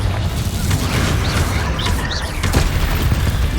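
A Confringo fire blast spell from Hogwarts Legacy erupts in a dense, rumbling boom that holds steady for several seconds, with crackling bursts layered over a heavy low roar and a brief sharper hit near the middle.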